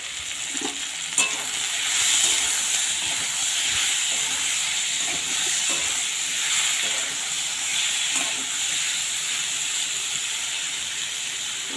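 Hilsa fish head and kochur loti (taro stolons) frying in a pan over a medium-low gas flame, giving a steady loud sizzle and hiss with occasional stirring scrapes throughout.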